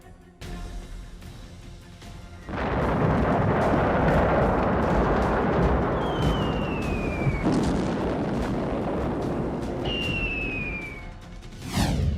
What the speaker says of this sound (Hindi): ईरान में फिर विस्फोट।